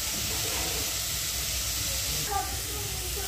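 Carrots sizzle in hot ghee for a sweet carrot halwa, a loud, continuous hiss and crackle of frying close by, with no talking.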